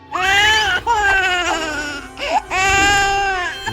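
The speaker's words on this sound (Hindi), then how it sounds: "ये तो बच्चों के रोने की आवाज है।" Children cry loudly in long wailing sobs, broken by short gasps and pauses, close and sustained.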